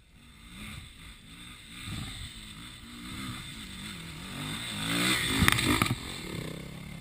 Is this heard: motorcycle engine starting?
yes